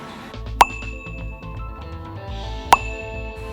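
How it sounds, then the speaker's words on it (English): Two bright bell dings, about two seconds apart, ring out over a low rumbling background of music or game sound. "The bell is ringing."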